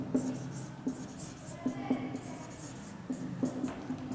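Marker or chalk writing a word on a board in short squeaky strokes, in clusters with pauses, close and clear, with faint voice between.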